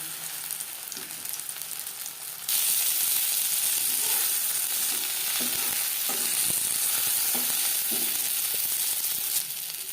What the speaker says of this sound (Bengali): পরের মাছ একইভাবে ভেজে নেব